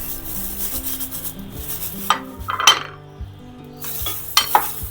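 Raw green mango pickle is worked together with turmeric by hand, producing close, intermittent wet squishing and rubbing bursts separated by brief quieter gaps, with soft tonal background sounds beneath.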